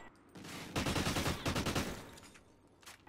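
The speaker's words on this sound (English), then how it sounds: "I got shot through a fucking wall" Rapid bursts of video game gunfire from a 1v1 match, loud and close, with dense overlapping shots through the middle and a few scattered shots trailing off toward the end.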